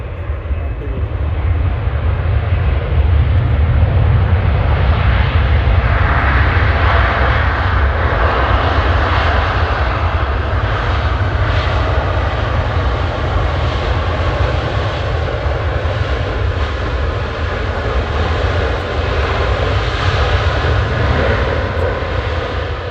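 Airplane engines at Manchester Airport, a loud continuous roaring drone that holds steady throughout, heard nearby with a deep rumble.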